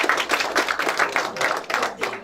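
Meeting attendees at a county Republican executive committee meeting clap after a motion carries, a short burst of distinct, fairly close hand claps in an uneven rhythm, with a little talk underneath.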